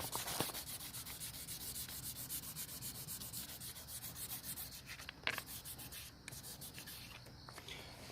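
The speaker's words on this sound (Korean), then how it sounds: "그 느낌에 맞춰서 이렇게 샌딩을" Rapid, rhythmic rubbing of sandpaper across body putty on a Hyundai Equus lower bumper, close and steady, with brief pauses and shifts in stroke near the end.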